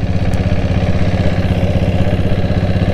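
A Royal Enfield Bullet motorcycle fitted with a diesel engine runs close by, a loud, steady, thumping beat with a clattering mechanical edge that holds without pause.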